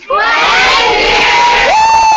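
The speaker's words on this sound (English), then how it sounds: "Do you want to give a big cheer to Lucy and say goodbye?" Crowd of schoolchildren at Kismet Park letting out a big, loud cheer that starts abruptly and holds steady for about two seconds, voices shouting together close and bright.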